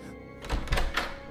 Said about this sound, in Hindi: कार्तिक हिम्मत करके दरवाजे को खोल देता है।